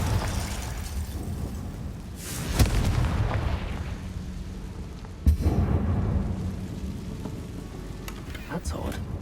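In the video game Hogwarts Legacy, the Confringo explosion spell goes off as a couple of sharp booms over a rumbling, rain-like wash of background noise.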